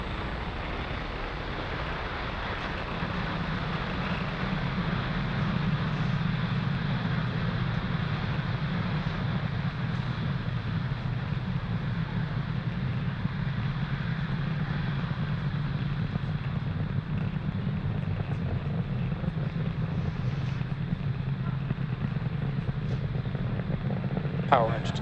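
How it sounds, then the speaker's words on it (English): A SpaceX Falcon 9 rocket climbing away from launch pad 40 produces a continuous deep, rumbling roar that stays steady and powerful, with broadband crackle over a heavy low-end drone. "Falcon 9 has successfully lifted off from pad 40"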